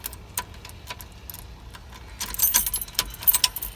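Keys on a ring for a Chevrolet C10 pickup truck jangle in a few light rattling bursts, close by, growing busier and louder toward the end.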